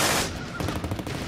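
A German MG-42 machine gun firing 7.92 mm belt-fed rounds, heard as a dense, loud, rapid burst lasting just over a second with no gaps between shots.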